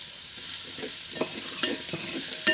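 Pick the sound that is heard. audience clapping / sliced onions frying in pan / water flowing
sliced onions frying in pan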